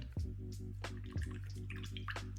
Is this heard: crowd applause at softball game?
no